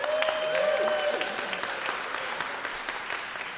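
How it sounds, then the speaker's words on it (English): Applause from a congregation in a synagogue, a brief burst of many hands clapping that fades over a few seconds, fairly quiet and diffuse, with a voice briefly over it. "It's the first time I think a senator has ever gotten applause in a synagogue."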